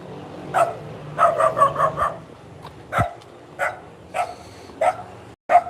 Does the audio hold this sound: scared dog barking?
yes